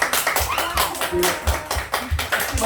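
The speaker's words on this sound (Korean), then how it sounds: "박수!" Congregation at a Sunday church service claps in a steady rhythmic beat, many hands striking together in regular pulses, close and fairly loud.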